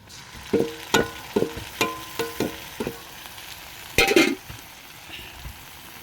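Ground turmeric, chili, Kashmiri chili, cumin and coriander with ginger and garlic fry over fried onions, stirred with a series of rhythmic scraping strokes over a soft sizzle, ending in a louder clatter.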